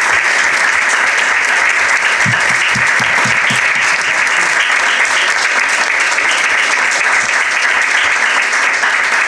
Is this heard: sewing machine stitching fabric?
no